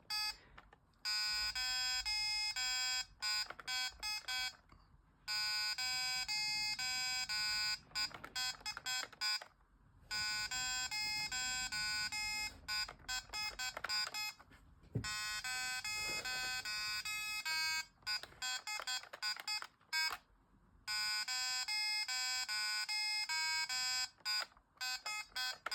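Retro handheld electronic game, powered by a 9-volt and two AA batteries and set to game 1, gives out loud, steady runs of shrill electronic beeps in repeating bursts, broken by short silences, with no talking.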